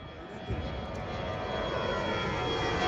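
A steady jet airplane roar rumbles overhead, broad and sustained, slowly swelling in loudness over a few seconds.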